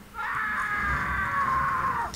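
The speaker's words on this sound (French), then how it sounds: "Bon, si ça vous gêne pas, on va le laisser gueuler." A man in the video game Alan Wake lets out one long, strained yell lasting about two seconds, fairly close and steady before cutting off abruptly.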